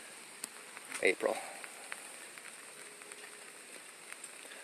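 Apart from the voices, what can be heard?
rain falling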